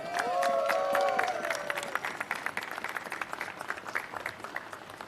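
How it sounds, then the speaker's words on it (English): A crowd applauds steadily with scattered cheers and whistles, loud at first and gradually thinning out over several seconds. "A round of applause to Mayor de Blasio."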